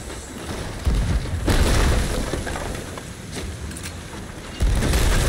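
Heavy video game cannon fire booms twice, each a deep low-end blast that rumbles and lingers, set against a continuous noisy background.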